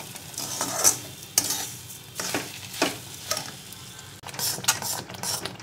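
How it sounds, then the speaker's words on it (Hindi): Sugar being stirred into hot khoa in a pan for Teej pag, with a steady sizzle and a few sharp scraping and clinking strokes of the spoon against the pan, close and fairly loud, with no talk. "अब हम इसमें चीनी डाल देंगे 1 कटोरी। चीनी डाल के अच्छे से इसे पहले मिक्स कर लेंगे।"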